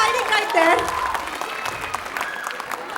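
An audience at a dance recital claps for a sponsor, a mass of applause heard close and steady, with voices and chatter mixed through it.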